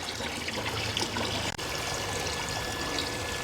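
Liquid plant nutrient solution made from ajwain leaves is poured onto the base of plants. It makes a continuous close trickling and splashing pour with one brief break midway.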